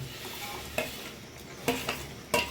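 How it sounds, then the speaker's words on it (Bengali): A spoon scrapes and knocks in a pot as grated ripe mango is stirred into sago pudding with cashews and raisins, making a quiet wet shuffle with three or four sharper clinks and no talking. "আম গ্রেটারে ঘষে রেখেছিলাম, সেই আম দিয়ে দিচ্ছি আমি"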